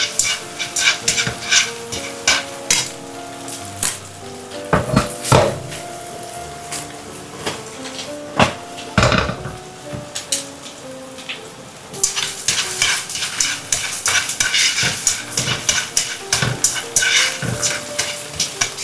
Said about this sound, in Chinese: 中小火慢慢推动翻炒，只要鸡蛋刚刚定型，微微蓬松，就可以盛出来。